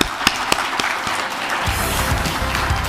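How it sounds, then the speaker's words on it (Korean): Audience applause breaks out after a presidential candidate finishes an economic vision speech to business leaders, starting as a few scattered claps and swelling into steady, dense clapping from a large crowd indoors. "귀한 말씀 해주신 후보님께 다시 한번 큰 박수 부탁드리겠습니다"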